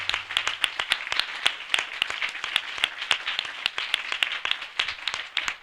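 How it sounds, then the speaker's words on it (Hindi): A smaller group at a Hindi-language church assembly applauds, a moderate crowd of hands clapping with crisp individual claps clearly picked out in an uneven rhythm, close and steady, with no speech over it. "हम जोरदार तालियों से उनका स्वागत करें"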